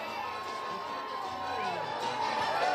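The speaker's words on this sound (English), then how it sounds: "Listen to all these people cheering." Crowd along the route of the 2025 St. Andrews Mardi Gras parade cheering and shouting, a dense continuous roar of many voices with children's cries mixed in, swelling slightly toward the end.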